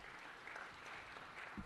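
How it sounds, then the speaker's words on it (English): Steady applause fills a city council meeting chamber, a dense patter of many hands clapping at moderate distance without a break, quiet and evenly sustained. "Let's give him a round of applause."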